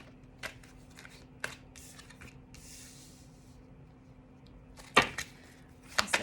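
Tarot cards are shuffled close up in soft, intermittent riffles and slaps, with a few sharper snaps toward the end and quiet gaps between.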